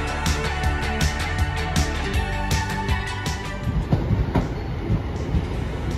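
A West Midlands Railway shuttle train from Lichfield City pulls into Barnt Green station to terminate, its rumbling wheels and rattling carriages steady and close, with clattering rail joints thickening toward the end.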